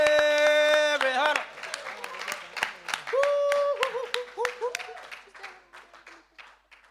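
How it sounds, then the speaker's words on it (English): Audience applause at a live poetry jam, broken clapping that swells and tapers after a host's loud, excited introduction, with cheering voices mixed in. "Let's keep this applause going until they come to the microphone"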